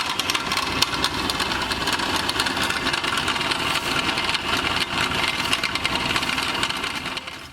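Drill press spinning an engine valve against 600-grit sandpaper for polishing, a steady, loud continuous whir with a faint rasping texture throughout, no talking.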